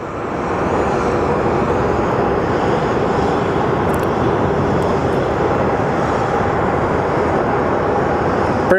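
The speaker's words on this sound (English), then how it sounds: "our Volaris going to Culiacan is Volaris 879 is departing. It's an A321, 7 years old." A seven-year-old Volaris Airbus A321 jet departs, its engines a loud, steady broadband roar that holds evenly throughout without any voices.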